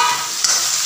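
Raw banana curry is stirred in an uncovered pan over a gas flame, the half-cooked pieces giving off a brief, steady hiss with a soft scrape partway through.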